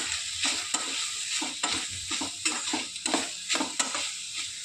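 Moong dal fry with coriander powder being stirred in a pan, a spoon scraping in a steady repeated rhythm over a soft constant sizzle, close and moderately loud, with no talking.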